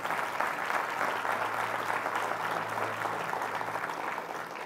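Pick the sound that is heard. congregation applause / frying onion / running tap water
congregation applause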